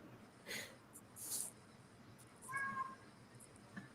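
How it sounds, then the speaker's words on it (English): A pet cat yowls indoors in a few brief, nasal cries spread across a few seconds, moderately close and not very loud, with quiet room tone between them. "My cat is yodeling."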